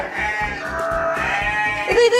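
A goat bleats close by with a long, wavering, drawn-out cry that rises toward the end.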